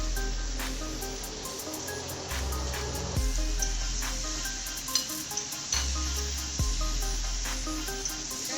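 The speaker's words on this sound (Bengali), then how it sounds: "দিয়ে একটু কষিয়ে নেব।" Salt, turmeric, cumin powder and green chili paste sizzle in a hot pan for a fish dish, a steady hiss broken by sharp clicks of a utensil and a couple of low rumbling surges.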